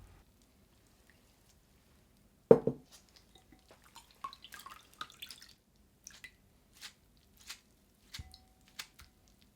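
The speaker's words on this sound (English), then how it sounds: "drain the water in a strainer." Softened hijiki seaweed is tipped into a strainer, giving one sharp splash followed by scattered, faint drips and trickles that slow to sparse droplets, quiet and close.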